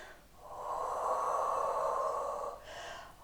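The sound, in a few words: deep breath in and exhale during workout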